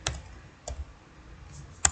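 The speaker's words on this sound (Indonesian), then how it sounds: "kemudian ketikkan enable" A few sparse, quiet keystrokes on a computer keyboard while entering a network switch command in a CLI, each tap brief and crisp against a soft background hum.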